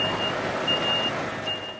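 Heavy truck in snow, freed with a tractor's help after being stuck, rumbles steadily up close while repeated reversing beeps sound throughout.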